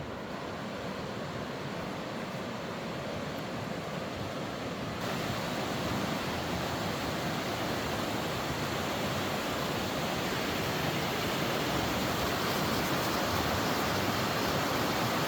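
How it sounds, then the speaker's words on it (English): Rapids on the Toccoa River rush in a constant, dense roar of white water, loud and close, steady for the whole stretch with no voices and a slight rise in level partway through. "This is some of the rapids for first thing in the morning."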